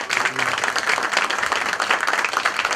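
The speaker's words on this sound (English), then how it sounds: "Can you please give him a round of applause, everybody?" A dense round of applause from an audience at a KTM press conference, steady clapping from many hands throughout with little variation, close and fairly loud.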